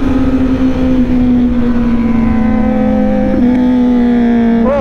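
A Kawasaki Z900 motorcycle roars at high speed on a road, a loud, steady engine drone holding one high pitch throughout, with a brief rising rev near the end and no talking.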